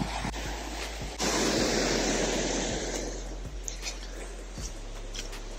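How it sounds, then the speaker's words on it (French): Sea waves surge and break on a beach at Porticcio, Corsica, a steady loud broadband wash of surf with wind buffeting the microphone, swelling after the first second and rolling on without pause. "Il y a beaucoup beaucoup de vagues."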